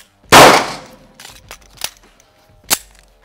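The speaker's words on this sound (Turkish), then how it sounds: "Atış yaptım." A pistol fires during a magazine change drill: one loud, sharp crack nearby, followed by lighter metallic clicks and a second, shorter report.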